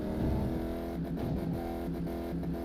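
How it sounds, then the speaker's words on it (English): A car engine revs hard in Car Mechanic Simulator 2018 while tearing around the Daytona infield, a loud sustained droning roar with harmonic tones that dip briefly as gears shift, no talking. "Yeah, this transmission just can't handle this engine,"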